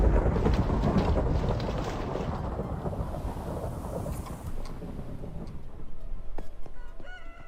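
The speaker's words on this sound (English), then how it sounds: "Ooh, thunderstorm. Let's get to bed because those weather noises are very loud in my ears" A thunderstorm in the video game Minecraft brings a loud, rolling crash of thunder over steady rain noise that gradually eases, with a few faint clicks near the end.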